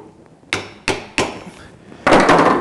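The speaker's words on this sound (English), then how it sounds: "we just want to use our awl to get the center for the tailstock" An awl is tapped into a wooden blank to mark the center for a lathe tailstock: four sharp, loud strikes at uneven intervals, the last one ringing longer.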